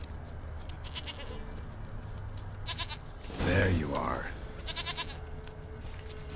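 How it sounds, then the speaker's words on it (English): A goat bleats once, loud and close, in the video game The Witcher 3, with someone talking briefly before it and faint game ambience throughout. "Here, goat."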